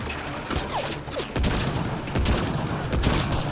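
Gunfire in the sci-fi shooter Mass Effect: Andromeda, a dense run of sharp shots and impacts over a constant backdrop of game noise, loud and close.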